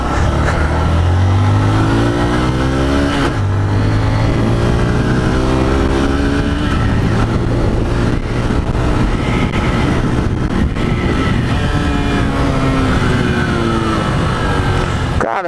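Honda CG 150 motorcycle ridden on the road, its single-cylinder engine close and loud, revving up through the gears in rising sweeps with shifts between them and wind noise over the top.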